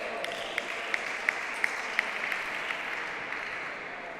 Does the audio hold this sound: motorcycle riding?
no